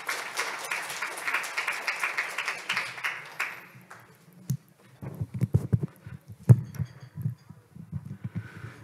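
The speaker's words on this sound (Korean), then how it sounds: "박수 부탁드리겠습니다." An audience at a Korean government briefing on overseas greenhouse gas reduction projects claps in a dense burst of applause that fades after a few seconds, followed by scattered thumps and handling noise near the microphone.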